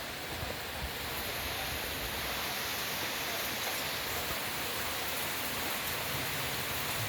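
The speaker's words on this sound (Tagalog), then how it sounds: "walang tigil na ulan" Heavy rain pours down steadily, a dense, unbroken hiss of water hitting surfaces nearby, with no voices.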